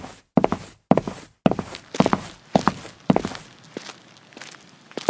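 Footsteps walking, a steady series of close, heavy thuds with a few sharper impacts, slowing and fading toward the end.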